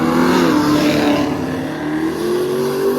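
Loud, close engine roar from a red Fox body car making a drag racing test pass, the revving note holding steady and then climbing slightly in pitch across the clip with no pause.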